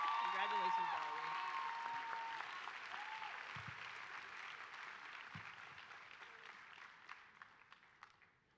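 Audience applause for award winners at an annual university ceremony, clapping that starts full and gradually thins out to scattered claps, with some voices at the start.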